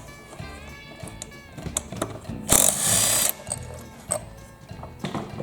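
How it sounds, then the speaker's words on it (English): A socket wrench on a 15mm socket works the flywheel nut of a Kohler Courage engine, giving a run of close mechanical ratchet clicks and metal taps. One louder burst of bright clatter sits in the middle. "you're going to need a 15mm socket to pull this flywheel nut off"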